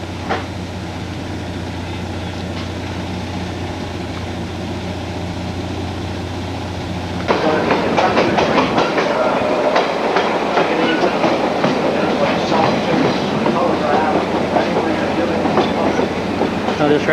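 Heritage passenger train on the St Thomas to Ingersoll line rolling along the track, a steady low rumble that grows louder and busier after about seven seconds with rattling clatter, fairly close and continuous.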